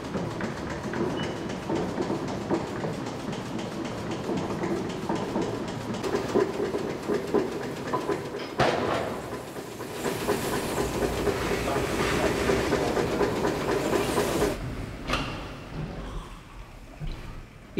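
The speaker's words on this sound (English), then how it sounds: "the steam valve can be opened, causing the engine to run on its own power" A steam beam pumping engine runs at Coleham pumping station with a continuous rhythmic chugging and clanking, steady and fairly loud, with hissing steam swelling midway.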